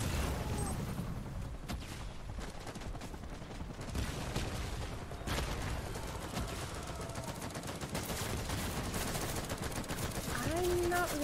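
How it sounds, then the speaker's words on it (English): Gunfire in the Death Stranding video game: dense, sustained bursts of rapid automatic shots and sharp cracks that continue without pause for about eleven seconds, loud and close. "We're shooting!"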